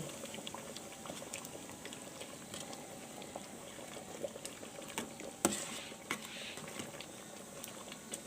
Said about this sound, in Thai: อ้าวเริ่มตักหมูบดใส่เลย